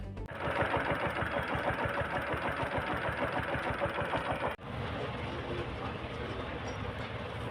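A heavy diesel engine of passing dump trucks, tractors and tankers rumbles steadily nearby on a damaged road, with a rhythmic chugging throb, briefly dipping before continuing at the same low, droning level.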